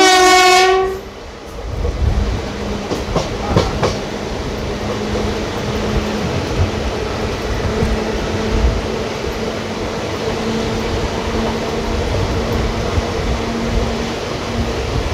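Hubli-Vijayawada Express passing on an Andhra Pradesh line, opening with a loud horn blast, then a close, steady rumble of wheels and carriages rolling by.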